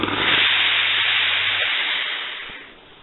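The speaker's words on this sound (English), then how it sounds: "press with the iron" A hot iron presses sealant-coated fabric with a loud, steady hiss of steam that holds briefly, then thins and fades away toward the end.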